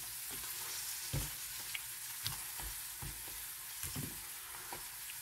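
Fish frying in a pan gives a faint, continuous hiss and sizzle, broken by several soft pops and spatters spread irregularly through the few seconds.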